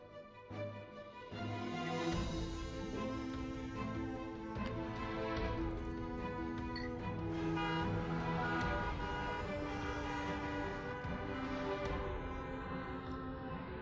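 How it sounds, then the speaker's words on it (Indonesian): Jammed traffic with car horns tooting repeatedly over a steady engine and road drone, fairly continuous and mid-distance. "depan macet parah gak bisa gerak."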